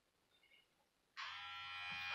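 Woner cordless hair clippers switch on after a second of near silence, giving a steady, close electric buzz with a low motor hum that holds evenly to the end.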